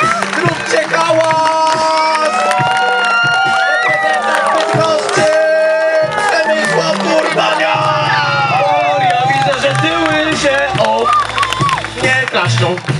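A crowd at a trickline competition in Bydgoszcz, Poland claps and cheers throughout, with whoops and babble under a loud announcer's voice over a PA.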